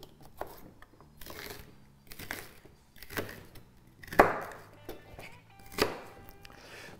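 A knife chops celery on a cutting board in a few separate, crisp strikes, spaced irregularly with quiet pauses between.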